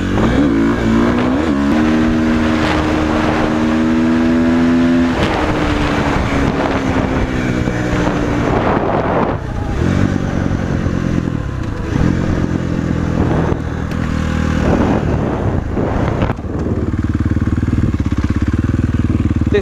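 A KTM 450 SX-F motocross bike engine revs up and down repeatedly, rising and falling in pitch, loud and near, with wind buffeting the microphone.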